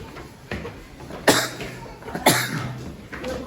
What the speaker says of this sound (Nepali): खोकी लागिरहेको छ